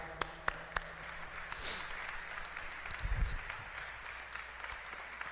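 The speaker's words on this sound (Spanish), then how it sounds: "Así que gracias, un aplauso." A congregation at an Epiphany Mass applauds faintly, a thin steady wash of clapping from a distant crowd with a few sharper taps near the start.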